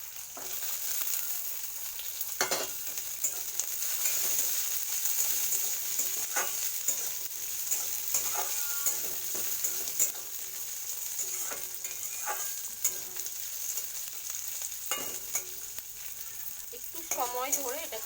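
Garlic fries in oil with green chillies and black cumin for coriander leaf paste, giving a continuous soft sizzle broken by occasional sharp clicks of stirring and utensil taps, with no speech.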